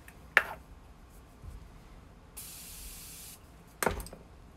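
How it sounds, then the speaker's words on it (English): Morphe setting spray misted onto a makeup brush, a single sustained close hiss of about a second, framed by a couple of sharp clicks and handling noises. "I'm using just the Morphe spray."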